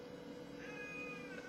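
A single drawn-out cat meow rises and wavers over a steady low hum, faint and somewhat distant, coming from a basement with no one talking.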